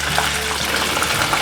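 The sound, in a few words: food frying in oil, turned over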